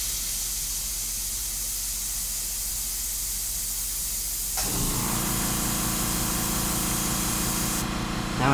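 An airbrush sprays sepia paint with a steady airy hiss, soft and thin at first, then jumping to a louder, fuller continuous spray midway that carries on to the end.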